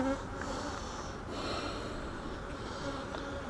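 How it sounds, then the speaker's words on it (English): Bees from a beehive box, opened for inspection with a frame heavy in nectar, give a dense, loud, steady buzz that swarms close around the listener with no break. "There's a lot of bees in this one too."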